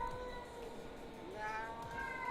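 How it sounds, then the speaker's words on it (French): A house cat in heat meows faintly in the background, with a few drawn-out, wavering cries over a steady low hum. "vous entendez mon chat?"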